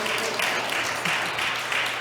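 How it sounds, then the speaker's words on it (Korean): Fairly faint audience clapping at a civic public forum, heard as a soft wash of hands with a few slightly louder pulses across about two seconds. "박수를 좀 치려면 크게 쳐주시죠."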